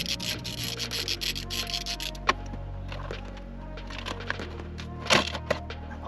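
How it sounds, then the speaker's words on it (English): Plastic rivets being pried out of a BMW E46 ashtray during a rear-seat armrest delete, with close rubbing and scraping of plastic trim and a few sharp cracks and pops as the fasteners give way. "The ashtray screws are more like plastic rivets, so let's get that come out."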